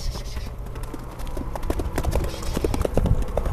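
A horse runs on hard ground near Bishkek, its hooves clip-clopping in a quick, irregular rhythm that grows louder and closer, while people talk over it.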